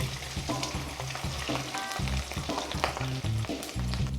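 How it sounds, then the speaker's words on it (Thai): Pork sizzles and crackles as it fries in hot oil, a steady close hiss with occasional pops and clanks of a utensil in the pan. "ตอนนี้น้ำมันของเราร้อนดีละ เราก็เตรียมหมูของเราเนี่ย ลงไปทอดครับ"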